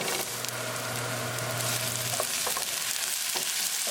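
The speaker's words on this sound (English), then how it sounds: "Now we're going to cook onion until they get nicely translucent." Onions fry in a pan for Indian tomato onion sabzi with a steady close sizzle and a low hum. Spatula stirring and scraping sounds come in toward the end, with no voices.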